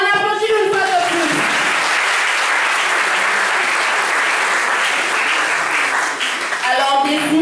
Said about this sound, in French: On applaudit une fois de plus.